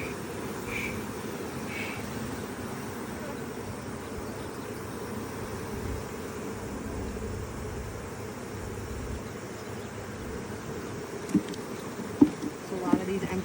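Honey bees buzz around an open hive with brood frames, a steady dense hum filling the background throughout, with occasional light knocks near the end.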